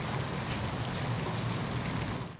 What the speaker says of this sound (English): The patter of rain on the rooftop is never relaxing at the Fava house.